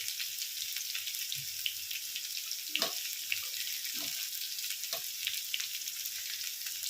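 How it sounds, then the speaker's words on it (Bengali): Potatoes fry in oil in a pan, a continuous close sizzle with a few soft knocks and stirring scrapes, and no talking. "আলুটা ভেজে নিয়ে ফেরত আসছি।"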